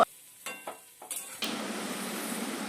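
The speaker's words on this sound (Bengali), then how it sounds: "পনিরটা সুন্দর লাল লাল করে ভাজা হয়ে গেছে" Paneer fries in a pan, starting with a few light scrapes and clinks of a utensil, then settling into a steady close sizzle for the last second or so.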